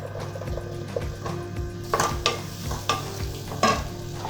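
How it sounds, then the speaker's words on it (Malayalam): Two chopped onions go into melted butter in a heated pan, giving a soft sizzle under repeated stirring scrapes and spoon knocks at an irregular rhythm, close by, with no voices. "ബട്ടർ ഒന്ന് മെൽറ്റായാൽ അതിലേക്ക് 2 സവോള അരിഞ്ഞ് വെച്ചത് ഇടാം."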